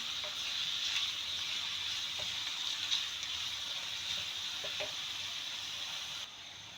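Onions fry for keema methi in a pan, with a steady, even sizzle throughout and a few faint stirring taps. The level drops slightly at the very end, and no one speaks.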